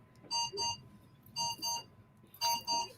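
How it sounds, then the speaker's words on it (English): A phone alarm rings in three separate pairs of bright electronic beeps, clearly audible above a quiet background. "I'm sure you guys hear my alarm."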